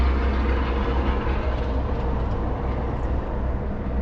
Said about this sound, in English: I promise the traffic quiets down in like an hour.